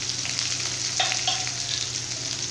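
Mustard seeds, small shallots and dried chili frying in hot oil for a Tamil carrot beans kootu, a steady close sizzle with faint crackles and a couple of brief stirring clinks, no voices.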